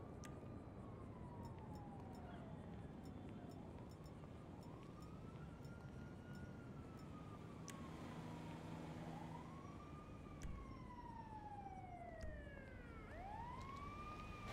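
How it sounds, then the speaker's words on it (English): Police sirens in the video game GTA V wail in repeated rising and falling sweeps, faint and distant in the game world, with several overlapping near the end. "Sirens."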